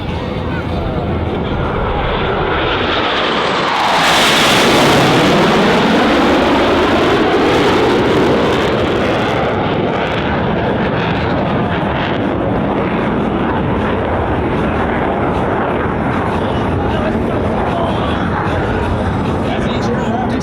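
Blue Angels jets scream past low during a break-cross maneuver at the California Capital Airshow, a loud roaring pass that peaks sharply, then sweeps away into a long fading jet roar. Wind buffets the microphone.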